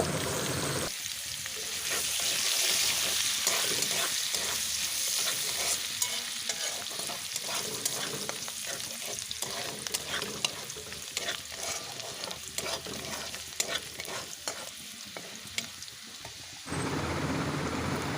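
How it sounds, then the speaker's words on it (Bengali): Chopped ginger fries and is stirred in a pan for a homemade pasta dish. A loud, steady sizzle runs for about sixteen seconds, broken by repeated scraping stirs, then stops before a quieter ending. "আদা কুচুনোটা দিয়েও এক দেড় মিনিট মতো ভেজে নেব"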